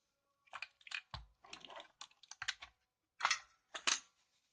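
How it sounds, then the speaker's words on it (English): A Logitech G610 mechanical keyboard typed on after its switches were replaced, a sharp, close run of loud clacking keystrokes in irregular short bursts with brief pauses between them. "Wow, the sound, how much it's different. You hear the clicking?"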